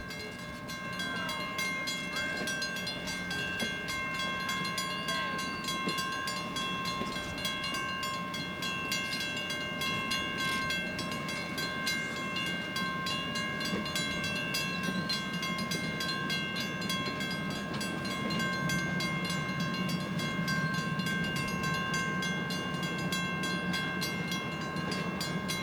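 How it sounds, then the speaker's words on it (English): A vintage excursion train rolling past on the line, a continuous loud rumble of railcars with steady tonal ringing and clattering wheels, sustained close by for the whole stretch with no talking. "as the train rolls by"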